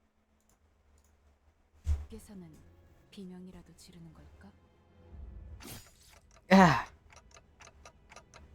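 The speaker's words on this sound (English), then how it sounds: "It's ticking faster." In the horror game Selva Oscura, a clock-like mechanism ticks in quick, regular beats that speed up after a sharp crash, with faint voiced groans and breaths between.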